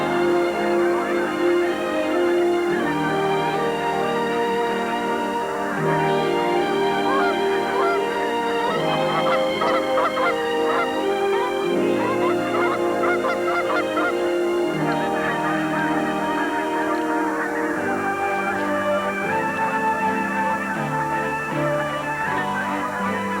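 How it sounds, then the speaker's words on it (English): Canada geese honk in flight, a dense, continuous chorus of overlapping calls sustained loudly across the whole stretch and blended with a full, steady backdrop. "the vast skies echo with the ancient call that beckons the wild birds to their nesting grounds"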